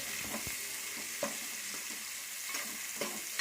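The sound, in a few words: curry leaves and spices frying and sizzling in oil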